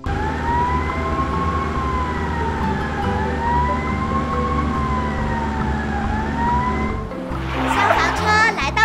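Cartoon fire truck siren wailing in a continuous rising-and-falling cycle, loud and steady for several seconds, then cut off by a burst of bright animated sound effects at the end.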